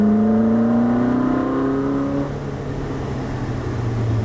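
A Ferrari 458 on track at Dubai Autodrome, its engine note climbing steadily under hard acceleration, then dropping to a lower, rougher drone after a shift or lift, loud and continuous with strong whine.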